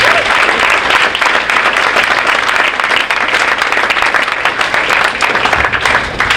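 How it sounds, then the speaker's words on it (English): Loud, sustained applause from an audience honouring coaches at a spring varsity athletic awards ceremony, dense clapping filling the room throughout. "So a round of applause for our selfless coaches."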